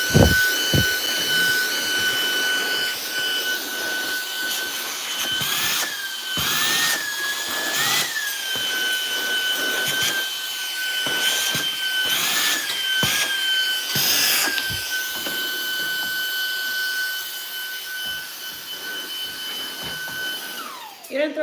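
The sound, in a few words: vacuum cleaner cleaning a room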